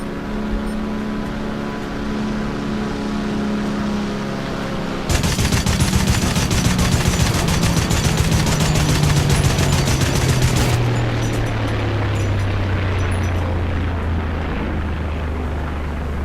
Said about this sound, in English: just to enjoy the sound of this gun, really